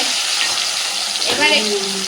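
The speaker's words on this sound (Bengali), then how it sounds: "টমেটোটা একটু সুন্দর করে ভাজা ভাজা হোক" Chopped tomato fries with whole garam masala in a pan, a constant loud hissing sizzle with a short voice partway through.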